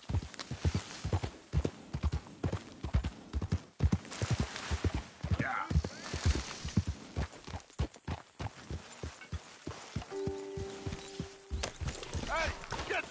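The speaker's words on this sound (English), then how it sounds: "get that horse out of here" A horse walks with a steady clip-clop of hooves, close and rhythmic throughout, while people talk over parts of it.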